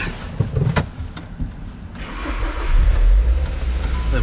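A car engine catches and runs after a jump start from a booster pack, a brief whirring crank followed by a steady, loud idle rumble building toward the end, with no talk.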